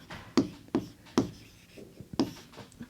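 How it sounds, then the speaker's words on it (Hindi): Chalk or marker writes on a board during a Class 4 maths lesson on fractions, making four or five crisp taps and short strokes at an uneven pace, close and fairly quiet. "तो यहां लिखेंगे"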